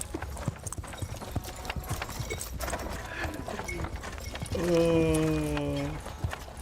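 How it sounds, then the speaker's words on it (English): Horses in the fantasy tavern game Tavern Keeper clip-clop steadily under a voice speaking, then a loud horse whinny rises near the end over the continuing hoofbeats. "Those horses."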